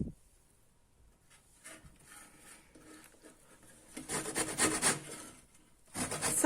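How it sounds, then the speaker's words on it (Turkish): Lemon peel rasped on the fine side of a grater, quiet scraping strokes at first that grow into louder, rapid rubbing bursts near the end, close and without talk. "Sadece limonun yeşil ve sarı kısmını rendeleyerek bir limon yağı oluşturacağız."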